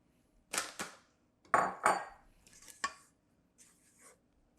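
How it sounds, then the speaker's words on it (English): Dry ingredients folded into vegan, gluten-free blueberry cookie dough in a bowl: a few short scraping clinks of a utensil against the bowl in small clusters, fairly quiet with gaps between. "now we are going to fold in our dry ingredients and just mix those in well"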